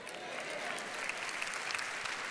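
An audience applauds during a Joyce Meyer sermon: dense, continuous clapping from a large crowd, fairly even in level, with a few sharper claps standing out and no talking over it.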